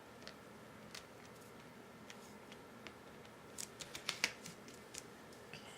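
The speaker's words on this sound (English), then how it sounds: "Just cut off this excess here." Scissors trimming excess card stock during a card-making project, a few quiet sparse snips that cluster into a short run of crisp cuts near the end.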